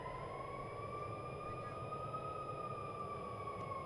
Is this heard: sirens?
yes